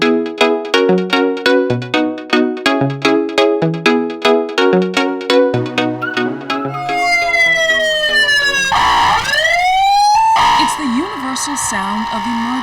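A rhythmic electronic tone pattern gives way to a loud wailing fire truck siren that sweeps up and down, with a vehicle horn-like blare near the end.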